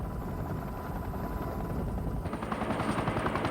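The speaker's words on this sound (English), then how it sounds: "The helicopters are always on guard, keeping an eye out for danger." Military helicopter flying near a naval carrier group, a loud steady rotor chop and engine drone that grows more pulsing toward the end.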